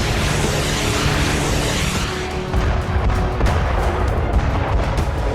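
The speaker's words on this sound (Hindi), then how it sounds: "आर्कटिक बिल्कुल ऐसे ही बारूदी धमाके होंगे, बिल्कुल ऐसी ही मिसाइलें चलेंगी।" Heavy gunpowder explosions in military footage, heard as loud, continuous rumbling blasts and booms with deep low-end weight, followed by a sharper crack partway through and more overlapping detonations, with no speech.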